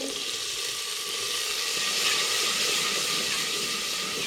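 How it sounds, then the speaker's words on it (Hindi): Spices frying in a pan with a splash of water added, giving a loud, steady close-up sizzle and hiss that continues without a break and has no talk over it. "मसाला अच्छी तरह फ्राई हो रहा है"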